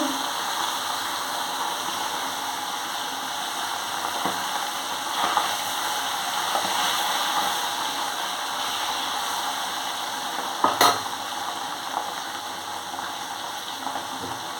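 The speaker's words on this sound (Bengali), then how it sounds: "তেল গরম হয়ে গেছে মাছটা দেখো দিয়ে দিচ্ছি" Fish sizzling in hot oil, with a steady broadband hiss of frying that runs throughout at moderate level, a brief sharper crackle near the end, and faint background noise beneath.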